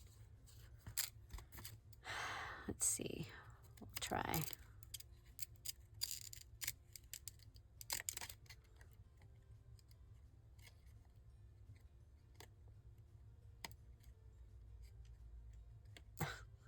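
Several crisp snipping cuts from scissors, close and fairly quiet, with a brief spoken remark partway through and soft breathy sounds.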